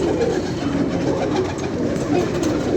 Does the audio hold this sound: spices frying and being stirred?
no